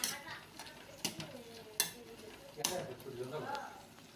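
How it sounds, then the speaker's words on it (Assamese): Chickpea dal frying in a pan for a sponge gourd and dry fish curry, with soft sizzling and a few sharp clinks and scrapes of a spoon stirring against the metal, quiet and close. "বুট দালি দিয়াৰ পাছত ধুনীয়াকৈ একদম ধুনীয়াকৈ ভাজিব লাগিব"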